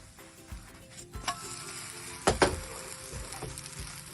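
Oats cheela cooking on a hot pan, a soft steady sizzle with a few louder clinks and scrapes of a spatula, close by and without talk.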